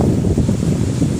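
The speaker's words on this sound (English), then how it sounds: "The wind hasn't dropped" Wind blows steadily across sand dunes at a camp, a loud low roar buffeting the microphone without pause, with no other sounds.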